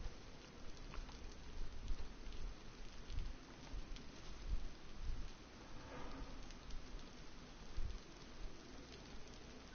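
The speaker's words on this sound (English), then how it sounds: "Yeah, it's definitely raining." Steady rain falls inside a video game, a dense even hiss of drops that runs continuously at a soft, distant level with no talk over it.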